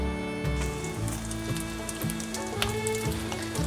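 Radish shred pancakes frying in a lightly oiled pan, a steady crackling sizzle with dense spitting pops throughout, fairly close and even in level.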